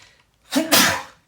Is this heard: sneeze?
yes